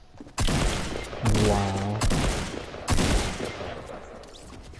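Shotgun blasts in Fortnite, a few loud sharp booms spaced about a second apart, close by, with a player's exclamation and game sounds mixed in.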